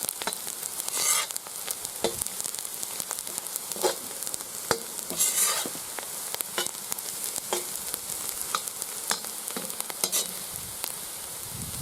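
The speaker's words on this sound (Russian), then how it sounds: "обжаривается лук с морковкой" Onion and carrot frying in an outdoor kazan in a village yard, with a steady, crackling sizzle and occasional sharper pops and stirring scrapes, close and continuous with no talking.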